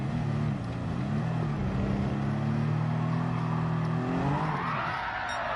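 A car engine drones and builds with a steady rising pitch after the brake comes off, then the note climbs sharply near the end, loud and continuous.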